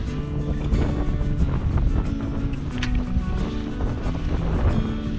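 Steady, loud wind buffeting the microphone while bass fishing in winter, with a low rumbling roar and faint water sounds underneath, continuous throughout.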